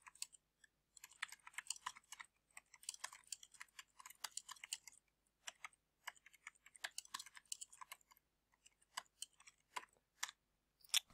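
Fingers type on a computer keyboard in quick, uneven runs of light clicking keystrokes, with short pauses between bursts, close and fairly quiet with no talking.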